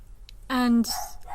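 A dog gives a single loud close bark that rises into a short yelp, followed by softer whimpering sounds.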